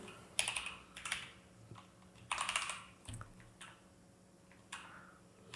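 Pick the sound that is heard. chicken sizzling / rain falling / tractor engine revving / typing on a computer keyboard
typing on a computer keyboard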